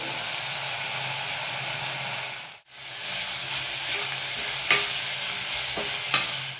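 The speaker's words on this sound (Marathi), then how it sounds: "तर इथे मी पास्ता मसाला सुद्धा टाकणार आहे आणि छान परतून घ्यायचे" Spices and pasta masala sautéing in a hot pan, a dense continuous sizzle close up with a brief break and a couple of sharp stirring knocks against the pan, no voices.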